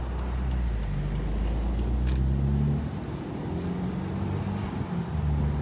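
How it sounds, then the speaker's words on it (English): Strong wind roars and buffets around an open-top BMW convertible cruising on the road, a loud steady rush mixed with engine and road drone, with no one speaking. "I don't know if you guys can hear me because the wind is so strong"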